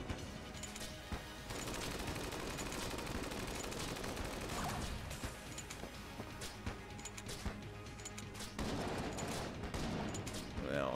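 Dense, continuous video-game gunfire from the Bullet King boss fight in Enter the Gungeon, with rapid shots and bullet fusillades crowding the whole clip at a steady, loud level, a few sharper bursts standing out.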